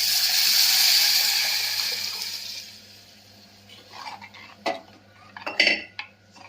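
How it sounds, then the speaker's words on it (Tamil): Ground chow chow kichadi mixture pours into a hot pan with a broad rushing hiss that fades over a few seconds, followed by a few clinks and scrapes of a utensil against the pan. "இப்போ நம்ம அந்த அரைச்சி வச்ச கிச்சடியை ஊற்றிடலாம்"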